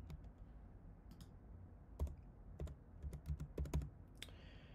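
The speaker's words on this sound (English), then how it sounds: "type in your trading password" Keys tapped on a computer keyboard while entering a trading password, a short irregular burst of close, light clicks with brief pauses and no talking.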